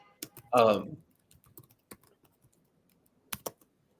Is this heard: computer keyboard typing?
yes